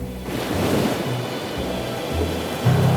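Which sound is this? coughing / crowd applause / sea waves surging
sea waves surging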